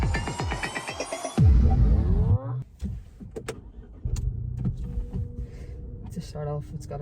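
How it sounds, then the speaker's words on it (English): Ford Performance Puma ST starting up and settling into a gentle idle rumble, with a low engine throb close by after a brief burst of music at the start. "To start off, it's got a nice gentle little rumble"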